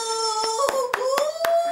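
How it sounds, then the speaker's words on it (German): Several sharp hand claps, about five spaced irregularly over a short moment, close and fairly crisp over a steady tonal background hum. "Applaus, Applaus."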